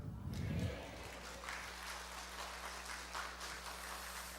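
Applause from an audience at a church testimony gathering makes a dense, even patter like rain, louder at the start and then settling to a steady level, heard from a distance in a reverberant hall.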